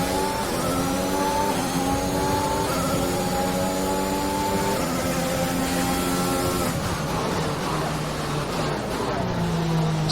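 An F1 car in the racing game F1 2021 at Circuit Gilles Villeneuve howls through the gears, its loud engine note climbing steadily in pitch, then dropping on a shift and rising again.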